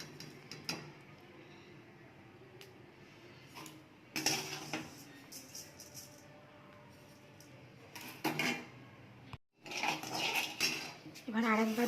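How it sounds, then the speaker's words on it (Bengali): A utensil scrapes and clinks against a pan as rice is dry-roasted and stirred, in soft intermittent bursts with a few louder metallic knocks, under a quiet kitchen background. "কত সুন্দর চাল ভাজা হয়ে গেছে, দেখতেই পাচ্ছেন কত সুন্দর চাল ভাজা হয়েছে।"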